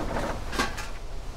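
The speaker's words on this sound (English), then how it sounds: "I think a ghost just slammed this door." A door, in a garage, bangs shut once with a short sharp thud in the middle, close and fairly loud over a low background rumble.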